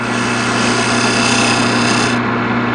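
Wood gouge cutting a spinning workpiece on a lathe, a continuous loud rasping shave over the steady hum of the motor, the cutting noise stopping abruptly near the end while the hum carries on.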